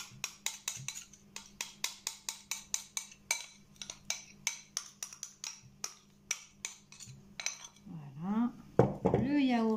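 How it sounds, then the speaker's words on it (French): Whisking melted chocolate with sugar, plain yogurt and eggs in a bowl for a chocolate banana tart gives a run of rapid, even clinks and taps of utensil on bowl, close and crisp, before a voice begins speaking at the end. "je vais me servir du chocolat fondu et le mélanger au sucre, au yaourt nature et aux deux œufs"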